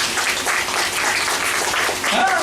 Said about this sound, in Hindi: ताली बजाइए इस राजा की।